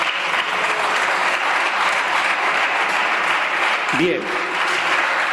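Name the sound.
applause in parliament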